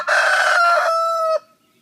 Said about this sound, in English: So that's my light Sussex Roo.